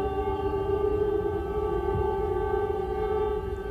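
A civil-defense air raid siren sounds across Israel for Memorial Day, holding one steady, unbroken tone with harmonics, continuous and even in loudness over a low background rumble.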